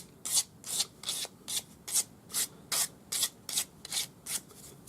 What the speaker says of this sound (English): we're going to take our sanding stick with 400 grade